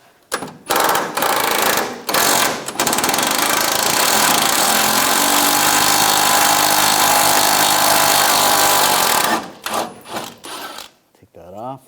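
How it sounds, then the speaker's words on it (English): A power tool with a 15mm socket removes a bumper bolt from underneath a 1999-2006 Chevrolet Silverado 1500, running loud and continuous for about nine seconds. Short bursts come before it and it winds down into quieter rattles afterward. "We're going to take this bolt off from underneath. I'm going to use a 15mm socket."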